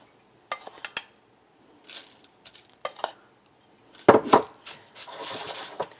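Half of a crumb mixture being spread and patted into the bottom of a 6-inch springform pan to form a cheesecake crust: intermittent close scrapes, soft pats and light clinks of a utensil against the pan, with no talking.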